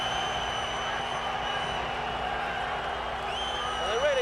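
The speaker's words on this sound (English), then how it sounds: "getting a tremendous welcome from the Swiss crowd" Swiss crowd roars and cheers in a steady, dense wash as a boxer makes his entrance, with broadband crowd noise holding level throughout and a steady tonal hum underneath.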